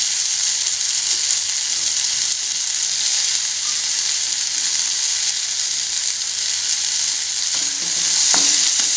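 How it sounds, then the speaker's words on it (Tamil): Onions sizzle steadily in butter in a pan while cooking broccoli soup, a continuous bright hiss of frying with a faint clink of stirring near the end. "ஆனியனும் நல்லா ஃப்ரை ஆகட்டும்."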